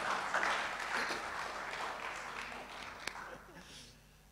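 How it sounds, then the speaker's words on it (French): Church congregation applauding a young man named Kevin who has come forward, a broad, steady wash of clapping at moderate, somewhat distant level with voices murmuring underneath, thinning toward the end. "on a le droit de l'applaudir"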